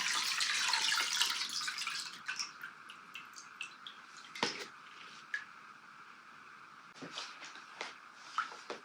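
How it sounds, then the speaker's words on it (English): Lye solution poured into soap oils for cold process soap making, a bright liquid splash and trickle at first that thins into scattered drips and small clinks, close and quiet with no talking. "I'm just going to add my lye now to the soap"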